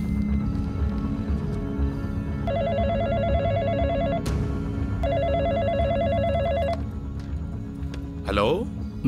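A telephone rings in two long trilling bursts against a busy background of ambient noise, followed by a brief clatter as the call connects.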